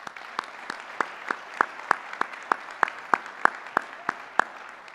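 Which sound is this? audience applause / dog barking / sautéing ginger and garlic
audience applause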